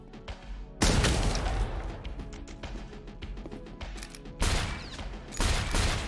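Grenade explosions go off in an SCP video game as loud, sudden broadband bursts with crackling, clattering debris, three sharp blasts in all, with no speech.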